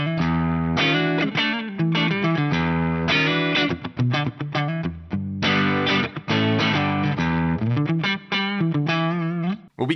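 Electric guitar with a neck humbucker on a Chilia Renegade, running a Fractal ODS 100 Clean amp model through a 4x12 cab and a touch of large room reverb. Sustained chords and melodic lines ring out with no pauses, played alone.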